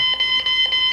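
Phone alarm clock ringtone, a bright electronic beeping tone pulsing in quick repeated bursts, loud and close, with nothing else around it.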